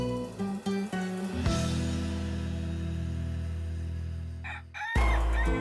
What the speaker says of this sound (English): The rooster woke us up early the next morning